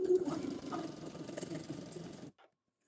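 A sewing machine runs steadily, stitching a French seam along fabric strips for a Christmas table set, with a continuous close mechanical whir that stops abruptly near the end.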